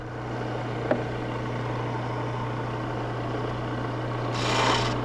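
A wood lathe spins a baluster while a gouge cuts it: a steady low motor hum with continuous broadband cutting noise, one sharp tap near the start and a brighter swell of shaving noise toward the end, with no talk.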